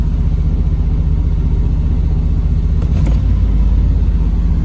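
A 1990 Buick LeSabre Estate engine idles high with its throttle stuck after a cold start, a steady loud rumbling drone that runs without a break, heard up close and alone.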